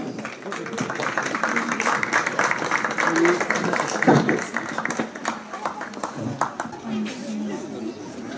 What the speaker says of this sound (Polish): Brawa dla Państwa oczywiście.